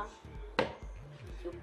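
A knife chops once through food on a board while making tartiflette, a sharp close cut, with quiet kitchen noise and a soft voice around it.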